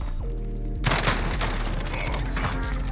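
A loud blast of gunfire erupts in a video game after a quiet moment, followed by a dense clattering burst that keeps going until the end.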